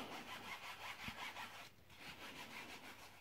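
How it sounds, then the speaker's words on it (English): A fabric mousepad is scrubbed by hand, giving a soft rhythmic back-and-forth rubbing with a brief pause midway, faint and close. "And just keep rubbing the whole mouse pad, front and back."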